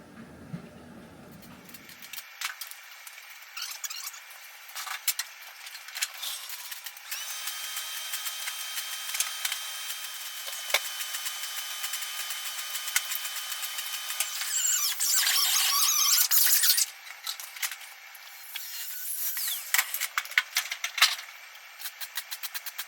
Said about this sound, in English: just welding across that little seam across the back of there now